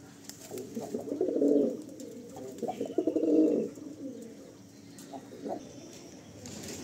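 Male Kaldam pigeons coo in a loft, giving two rolling, throaty bouts of cooing close by, with softer calls and shuffling in between.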